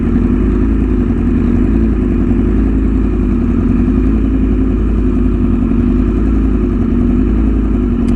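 A BMW S1000RR motorcycle fitted with an aftermarket exhaust drones steadily up close while being ridden, its engine note loud and continuous throughout, with no voices over it.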